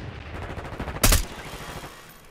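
A single sharp, loud burst of turret gunfire rings out in Black Ops 6, a quick rattling volley over a steady low background rumble of the game's mechanical hum, with no speech.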